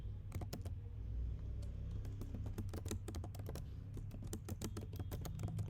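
Rapid typing of React Native code on a computer keyboard, continuous fast clicky keystrokes close up over a steady low hum.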